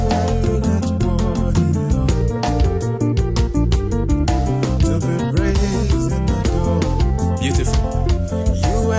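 An Ariaria praise groove on a grand piano voice with a live band, with dense rhythmic chords and steady percussion playing loud and continuous without talk.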